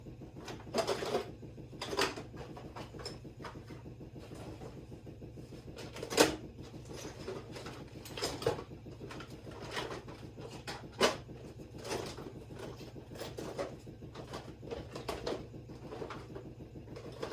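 Rummaging through an overstuffed junk drawer in a workshop, with a steady stream of clinks, rattles and knocks from small metal items being shuffled about, a few sharper clacks standing out, all close and without speech.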